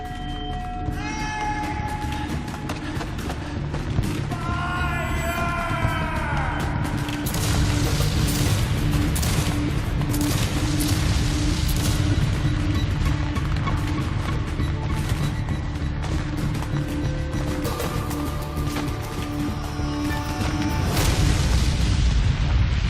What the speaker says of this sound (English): the awful shower of shot and shell flying around us